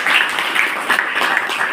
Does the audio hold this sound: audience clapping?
yes